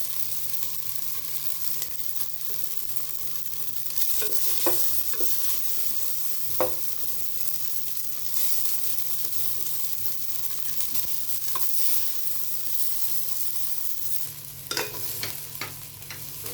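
Veg fried rice being stirred over high flame in a pan, with a steady soft sizzle and scraping spatula strokes scattered throughout, close and alone with no talk.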